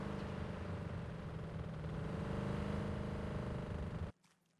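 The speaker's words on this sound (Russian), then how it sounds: "И звук этого грузовика, ну вы сейчас сами слышите, как это выполнено." A truck engine in the Arma 3 video game drones with a steady, loud, buzzing hum that cuts off abruptly near the end, leaving near silence, with no talking.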